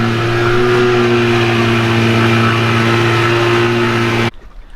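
Outboard boat motor running steadily on a DIY barrel raft on a river, a loud continuous drone with strong low harmonics that cuts off abruptly near the end, leaving only faint ambient noise.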